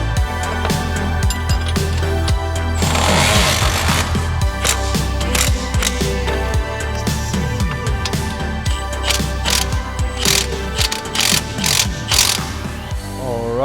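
Rapid clicking of a ratchet mechanism tightening a strap on a Can-Am X3, loud and close, in repeated bursts of ratcheting strokes with short pauses between them.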